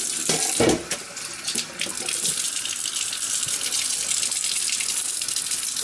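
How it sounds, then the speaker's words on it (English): Warm water runs from a tap into a wash basin, a steady close hiss and splash that keeps going without a break, with no voices. "I'm going to run some warm water actually."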